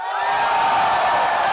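A large crowd roars, shouting and cheering in a continuous, dense wall of voices right after a ban on POGO operations is announced, loud and sustained throughout.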